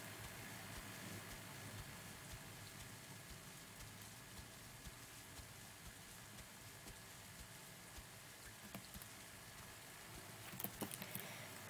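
Steady rain in the video game The Isle, a constant broadband hiss and patter filling the whole stretch at moderate level, with a few brief clicks near the end and no talking.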